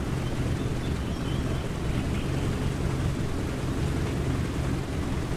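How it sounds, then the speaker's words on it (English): A steady, dense roar of Junkers Ju 52 radial engines in Microsoft Flight Simulator drones continuously at an even level, with a low rumbling throb underneath and no voices. "I just love the sound of these engines."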